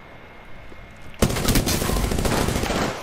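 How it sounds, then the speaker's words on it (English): Gunfire in the Apex Legends video game breaks out suddenly after a quiet stretch: loud, close, rapid automatic shots continuing as a dense burst for nearly two seconds. "Shots fired and they're hitting me."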